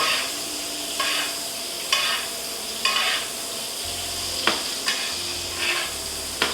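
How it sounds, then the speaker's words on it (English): Peaches and prosciutto basted in a hot frying pan give a steady close sizzle, with sharp scrapes and stirs of the pan about once a second; no talk. "What we're going to do is kind of baste these. So the pan's going to pick up the peaches, it's going to pick up all the prosciutto."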